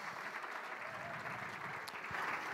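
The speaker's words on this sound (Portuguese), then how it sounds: "Uma salva de palmas para o nosso garçom" Audience at a hypnosis comedy show applauding a waiter, a dense sustained clapping from a crowd that continues evenly throughout and swells slightly near the end.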